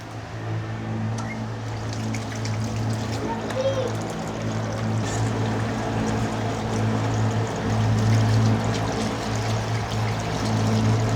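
Water runs and pours steadily for several seconds, a continuous splashing stream under a low hum, with voices faintly in the background.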